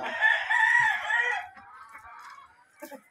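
A rooster crows once, loud and close, in one long drawn-out call on a farm, followed by a few faint clucks and farmyard noises.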